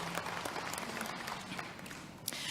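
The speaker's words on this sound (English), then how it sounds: "maybe let's give them a round of applause today for being here" Faint, distant applause from a large assembly hall greets a youth council at a First Nations general gathering, a soft continuous wash of clapping heard from afar through the brief stretch.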